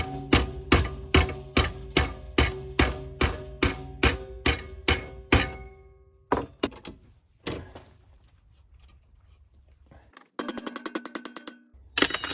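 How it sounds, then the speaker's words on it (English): A persuader hammer bonks a curved metal strip for a tank car accessory, a rapid run of about fifteen sharp, ringing metallic blows at a steady rhythm, then a few scattered knocks, a pause, and a brief clattering buzz at the end. "We use the persuader and just kind of bonk it around."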